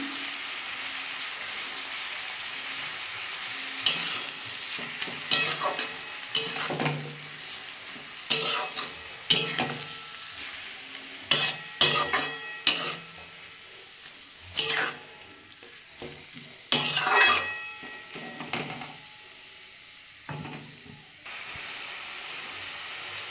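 Radish greens fry in a pan with a steady soft sizzle, broken by repeated scraping strokes of a spatula stirring them; close and moderately quiet, no speech.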